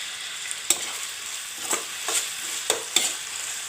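Tomatoes frying in a pan for chicken curry are stirred, a soft steady sizzle broken by several scraping strokes of the spoon.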